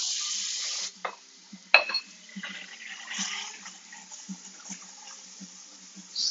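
Butter melts and sizzles in a pan for a bechamel on a live-fire cook, a bright hiss at first that quickly fades, followed by quieter crackles and light scrapes of stirring, close and without talking.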